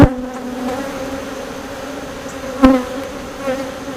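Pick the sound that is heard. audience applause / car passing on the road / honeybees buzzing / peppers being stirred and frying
honeybees buzzing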